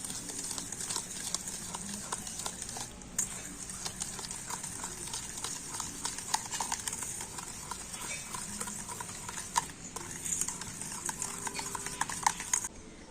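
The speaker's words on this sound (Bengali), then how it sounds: "এবার আমি সমস্ত উপকরণ একটু ভালো করে ফেটিয়ে নেবো" A whisk beats ingredients with yogurt and white oil in a bowl, making steady, rapid clicking and scraping strokes at close range with little else heard.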